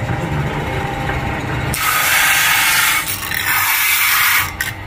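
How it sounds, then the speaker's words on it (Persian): Fine sandpaper rubs across a wooden kamancheh bowl part in a steady, close rasping scrape, louder and brighter after the first couple of seconds, with no talking. "دو طرف کار رو یک سنباده ریزی میزنیم"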